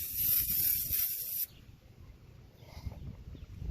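Aerosol foam engine degreaser sprays onto the engine of a 2004 Crown Victoria Police Interceptor, a loud harsh hiss for about a second and a half that cuts off abruptly, leaving faint low background rumble.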